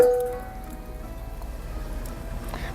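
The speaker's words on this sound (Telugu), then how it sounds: "కాసేపు చినుకులు పడుతున్నాయి కాసేపు ఆగుతున్నాయి" Light rain patters softly and steadily, a faint even drizzle with a low hum in the background.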